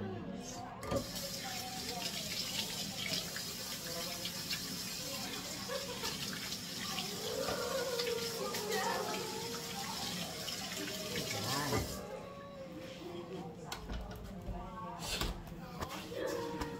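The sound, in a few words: washing at the kitchen sink with running water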